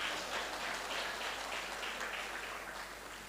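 A crowd claps at an outdoor political rally in St Ann, Jamaica, a steady dense patter that holds for a few seconds and then slowly thins and fades.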